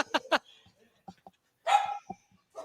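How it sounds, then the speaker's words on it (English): Dogs barking far off outdoors, a few faint, scattered barks and yips in quick bursts, heard between quiet moments with a person's voice nearby. "I hear dogs."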